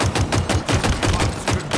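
Rapid automatic gunfire from the Halo Infinite Extraction mode, loud sustained bursts of shots in a steady rhythm with no pauses and no talk.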